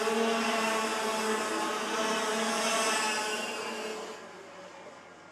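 125cc DVSJ racing kart engines scream at a rev limit on a kart club circuit during a championship final, a sustained high buzzing drone that holds steady, then fades as the karts pull away.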